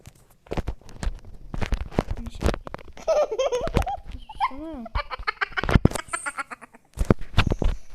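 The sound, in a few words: sheep bleating in a survival video game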